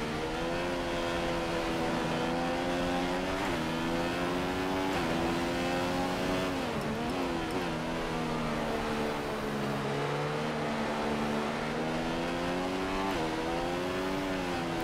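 A Formula 1 car's engine in the racing game F1 2015 at Spa in Belgium screams at high revs, its pitch dropping sharply at each gear change before climbing again, loud and continuous throughout.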